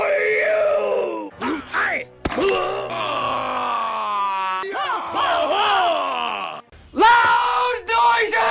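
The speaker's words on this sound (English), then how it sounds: "The audio is also on point when the enemies make Tarzan yells or bestial howls before they kill you." A string of guttural, bestial yells and groaning howls from enemies in the game Conan Exiles, loud and close, broken by short pauses and a sharp burst partway through.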